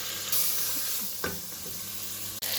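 Carrots and celery stirred in a pan with turmeric, black pepper and salt give a steady close sizzle, broken by a couple of brief stirring scrapes and knocks.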